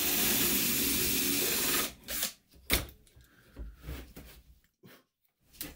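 A handheld power drill bores holes in wood for a bottle wine rack, a steady loud whir for about two seconds, then short bursts and clunks of the tool.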